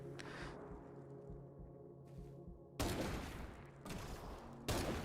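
Golden AK rifle fire in a video game: loud bursts of rapid automatic shots, with a low background hum between them.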